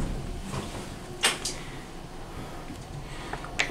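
Otis Lexan traction elevator doors in a Chattanooga parking garage sliding shut, a low rumbling glide with a couple of soft knocks and a final bump, heard alone at moderate level.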